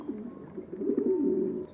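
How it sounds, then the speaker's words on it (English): Pigeons cooing indoors in a building in a short, soft, close series of low throaty coos. "Jeez, those pigeons are everywhere in this place."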